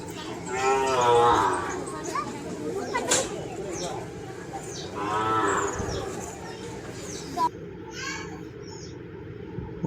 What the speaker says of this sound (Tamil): குட்டி மாடு பாரு